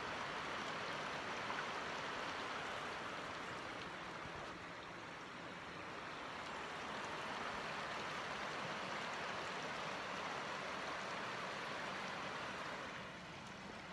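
A river flows steadily past, a constant rushing wash of water heard up close and fairly quiet, with no voices over it.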